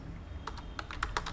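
A computer keyboard is typed on in a quick, light run of close clicks over a faint background hum, with no voices.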